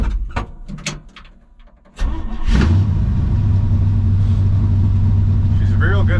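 A 1966 GMC pickup shop truck engine cranks after a few clunks, catches and settles into a loud steady close-up idle, with people talking over it.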